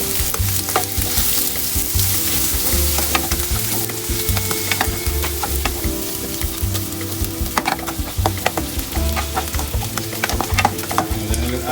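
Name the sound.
butter sizzling in a pan for stir fry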